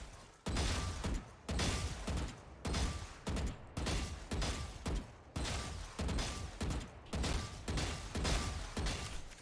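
Valorant gunshots fired while counter strafing ring out in a steady rhythm of about a dozen loud, close, evenly spaced shots, each with a short decaying tail, heard alone.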